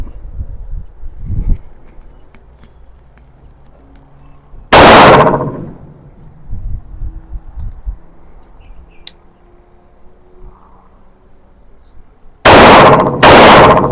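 Test firing of a .45 pistol with JHP and .45 Major IPSC competition rounds outdoors: one loud, sharp gunshot, a quiet stretch with faint background noise, then two more shots in quick succession near the end.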